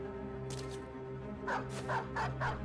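A dog character barks in the Battle Brothers video game, several quick, fairly faint yips and barks over a steady low game hum.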